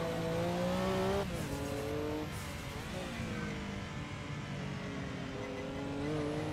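A Porsche 962C race car in Assetto Corsa accelerates gently out of a corner, its engine note climbing steadily and shifting up once, a loud continuous drone with no voices.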